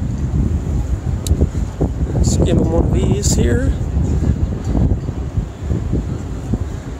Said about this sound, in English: It's always wind in Minnesota. It's always windy.